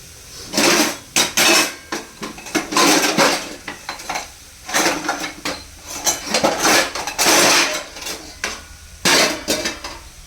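Metal cookware clanks and clatters as a lid goes onto a pan of dill greens cooked with crushed peanuts over a low gas flame. The sharp, close knocks come in irregular clusters.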